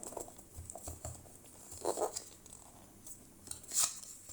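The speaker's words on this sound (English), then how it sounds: "So I will remove the packaging." Packaging being pulled off a Google Fitbit Air fitness tracker box, faint crinkling and tearing of plastic and cardboard with a few short sharp rustles, close up and quiet, with no talk.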